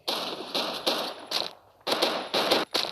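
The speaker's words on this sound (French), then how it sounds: "C'est un SCAR avec une lunette de sniper. Et donc c'est un petit peu un sniper qui mitraille." A SCAR rifle fitted with a sniper scope fires in the KUBOOM video game: sharp, loud bursts of shots come in quick clusters with one brief gap, close and dry, with no talking over them.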